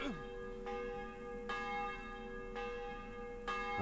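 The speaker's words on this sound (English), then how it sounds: "What does that bell even mean?" A church bell in the medieval village of the video game Kingdom Come: Deliverance tolls four times at an even, slow pace, each ringing stroke leaving a long humming tail, moderately distant and clear.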